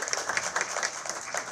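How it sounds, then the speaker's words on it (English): Applause from an audience at a quarterly city cabinet community event, dense steady clapping over a short stretch with no pauses. "Give yourselves a round of applause."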